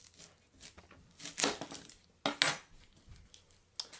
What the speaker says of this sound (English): I'm going to go ahead and slice off the top of this onion